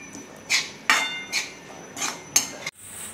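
A spoon stirs vegetable curry, a green pea dish, in a metal pan, making about six distinct clinking, scraping strokes at an uneven rhythm, close and moderately loud.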